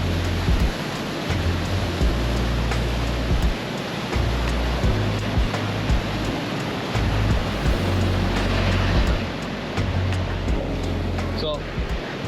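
Ocean waves wash against the shore on Maui, a broad, steady surf roar with gentle swells in loudness, fairly close and filling the scene.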